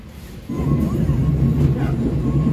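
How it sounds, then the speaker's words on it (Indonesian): The Sri Tanjung train pulls out of Surabaya Kota station, a steady loud rumble of wheels and carriage noise rising in after a brief quieter moment and continuing evenly, heard from on board. "kereta api Sri Tanjung diberangkatkan dari stasiun Surabaya Kota menuju stasiun Ketapang di Banyuwangi"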